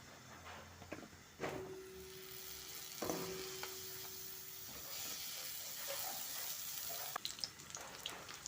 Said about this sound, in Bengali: পরিমাণ মতো তেল দিয়ে দিলাম। এখন আমি পটলগুলি ভেজে নেব।